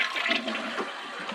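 A newly installed toilet flushes in one steady, rushing burst of water that runs throughout, close and fairly loud, with no voices over it.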